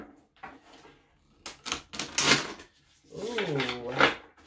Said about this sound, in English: I want to shuffle the deck to see what we get for